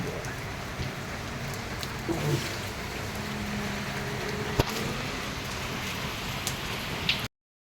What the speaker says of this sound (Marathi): पाऊस बघा कसा जून जुलै महिन्यासारखा पाऊस पडतोय